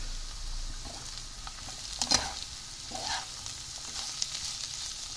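Soaked poha being mixed in a pan, soft scraping and stirring over a steady hiss, with a couple of louder strokes, no talking.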